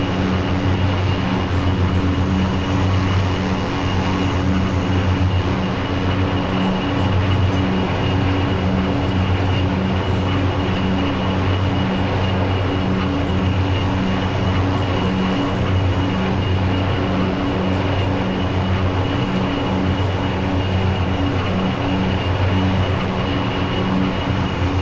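Twin turboprop engines of an OV-10A Bronco in steady cruise in a DCS flight simulator, a constant loud drone with steady tonal hum that holds without change throughout.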